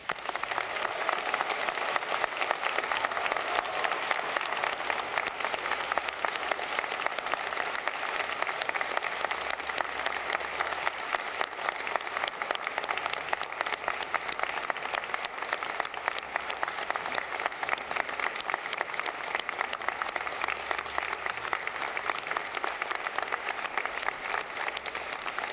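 Sustained applause from the audience at a Flinders University graduation ceremony for College of Nursing and Health Sciences graduates, a steady crackle of many hands clapping in a large hall, moderately distant and unbroken for the whole stretch.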